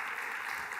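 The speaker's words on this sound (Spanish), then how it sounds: "Un aplaudiment." Brief burst of audience applause at a business seminar in Barcelona, steady and dense for under a second before it cuts off abruptly, with no voices over it.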